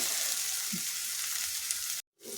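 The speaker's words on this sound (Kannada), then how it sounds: "ಅಲ್ಲಿವರೆಗೆ ನಾನು ಇದನ್ನು ತಿರುಗಿಸ್ತಾನೆ ಇರ್ತೀನಿ" Masala for a simple chicken gravy frying in oil as it is stirred: a constant, even hiss of sizzling close by with a faint knock partway through, then a brief dropout before the sizzle returns.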